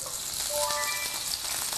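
Dried shredded squid frying in a generous amount of melted butter in a pan gives a steady, close sizzling hiss with faint high squeaks over it, and no one speaks.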